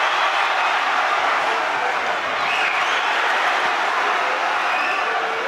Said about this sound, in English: Every time he's been shown on the screen, the crowd's applauded.